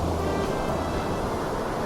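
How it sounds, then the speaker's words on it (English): Ocean waves roll onto a beach in a visual novel game, heard as a steady, dense wash of surf with a low rumble and no voices. "It'd be really easy to fall asleep here, listening to the waves"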